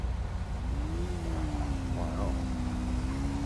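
A car engine fitted with a Motec system exhaust, from GTA roleplay, holds a steady mid-pitched drone with a slight rise in revs, continuous and fairly close, with faint voices underneath.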